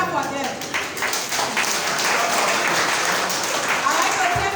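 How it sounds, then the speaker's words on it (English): An audience at a school renovation citizens' engagement event applauds county school officials, a broad sustained wash of clapping with voices mixed in beneath it. "Please clap for them."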